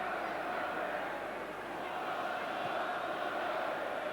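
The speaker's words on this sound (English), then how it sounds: "the crowd are starting to applaud and cheer every time San Marino get a touch" A steady roar from a football stadium crowd at England versus San Marino, with applause and cheering blended into one constant wash of noise, unbroken throughout.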